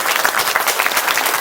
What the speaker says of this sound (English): give a round of applause if you worked on shooting Clerks